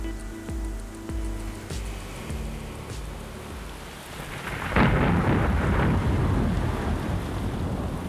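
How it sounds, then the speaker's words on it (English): Torrential rain and rolling thunder at sea over the Pacific, steady heavy downpour with low thunder rumbles early on, then a louder crash of thunder and intensified rain in the second half. "The rain is torrential."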